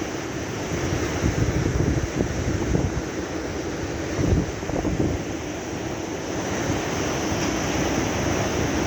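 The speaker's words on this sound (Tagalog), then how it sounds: "Grabe ang ano oh, ang alon." Constant rushing surf of big waves breaking on Jiyeh Beach, Lebanon, with gusty wind noise on the mic and a brief louder swell midway.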